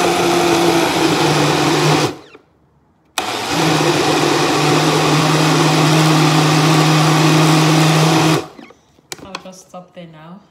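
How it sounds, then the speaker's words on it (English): Close, loud countertop blender whirring through a basil, cucumber, mango and beetroot smoothie in two long runs separated by a short pause, then stopping, followed by faint clattering and handling sounds. "So yeah, I'm going to be blending."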